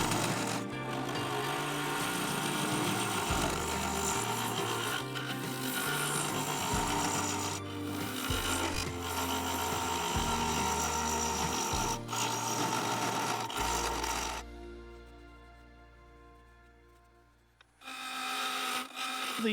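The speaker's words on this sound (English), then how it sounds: "I switched back to the full-size carbide with a negative rate cutter" A full-size carbide cutter with a negative rake scrapes a spinning walnut and epoxy resin bowl on a lathe, giving a continuous rough rasping drone with rhythmic low pulses, then a quieter hum near the end before the cutting resumes.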